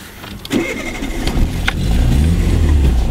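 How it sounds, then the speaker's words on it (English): A car engine cranks and fires, then settles into a loud, steady running rumble up close, with no talking. "Let's go from starting the car again."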